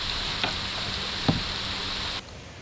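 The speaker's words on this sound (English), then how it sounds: "this is a cold rain." Cold rain pouring by the Minnesota River as a steady wash of drops, with a couple of brief knocks in between, then the hiss drops off sharply near the end.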